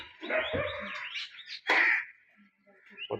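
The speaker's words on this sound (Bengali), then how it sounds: "কতগুলো পাখি আছে। মানুষ গাড়ি আসাতে পেলে গেল।" Several birds chirp and tweet close by in quick, overlapping bursts, with a louder call near the middle and brief quiet gaps between, and no talk over them.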